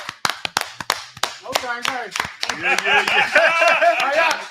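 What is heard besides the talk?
audience clapping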